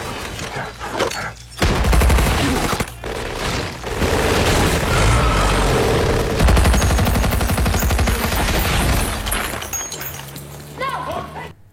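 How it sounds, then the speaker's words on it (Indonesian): Gunfire from the war film Overlord, with bursts of automatic fire and heavy booms crackling over a loud, dense soundtrack, heard alongside dialogue. "Muka Waffner sempat tertembak oleh senjata Corporal Ford yang kayaknya sih pakai senjata AK-117 ya"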